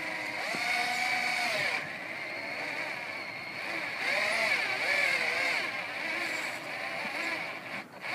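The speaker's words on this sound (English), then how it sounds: "get our piece in the middle, apply a little bit of pressure, and slowly begin to drill in." A battery-powered drill with a dying battery bores slowly into a piece, giving a steady whining motor hum with pitch sweeps as the speed sags and recovers, close and continuous throughout.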